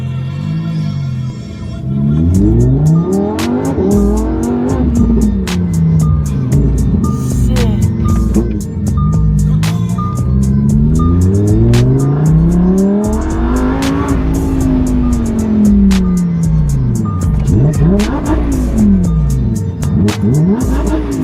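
A loud car engine revs hard and roars through repeated rising and falling sweeps as the vehicle accelerates and drives fast, close and dominant, with brief clicking sounds scattered above it.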